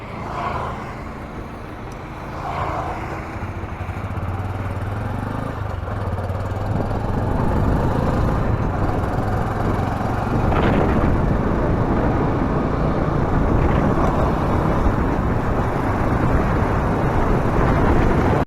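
A vehicle engine runs steadily while riding, a continuous low drone with road and wind rumble that grows louder and fuller after the first few seconds, staying close and constant, with no talking.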